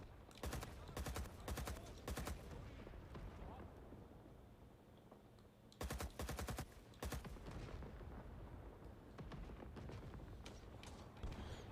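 Bursts of RPD machine gun fire from a bipod resting on a sandbag in a jungle video game, two clusters of rapid loud shots separated by a lull with ambient rumble between.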